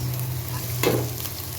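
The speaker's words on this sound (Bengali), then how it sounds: "এগুলোকে কিছুক্ষণ ভেজে তুলে নিব" Green chillies, cashews and raisins fry in oil with onion, a steady close sizzle with a low hum beneath and one brief stirring scrape midway.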